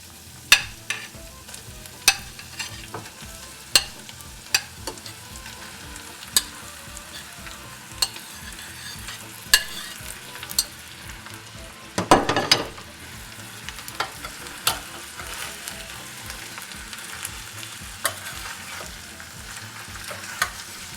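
Potatoes being stirred into cooked onions in a saucepan: a steady sizzle under regular sharp spoon clicks against the pan, with a louder burst of scraping and frying near the middle, close and unaccompanied.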